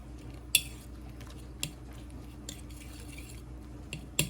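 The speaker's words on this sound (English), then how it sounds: "I'm just going to go ahead and mix that up and let the bread get combined in there." Meatloaf ingredients and bread are mixed in a bowl, a quiet soft squishing with a few sharp clinks of a utensil against the bowl, no voices.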